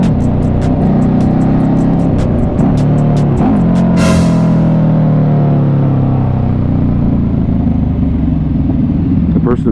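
KTM RC8 1190 R V-twin sport motorcycle being ridden, a loud, steady throbbing engine drone close by with a brief rev rising then fading, and someone talking over it throughout.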